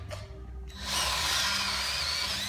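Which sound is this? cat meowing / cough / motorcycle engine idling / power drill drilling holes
power drill drilling holes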